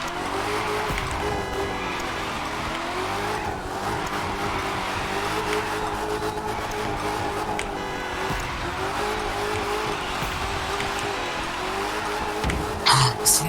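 Engine of a Chevrolet car in the racing game The Crew 2 drones steadily as the driver tries to drift, with a brief squeal near the end and a voice talking over it.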